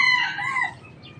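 A mestizo labuyo rooster, a jungle fowl cross, gives a single short, high crow, fairly clear against quiet farmyard background.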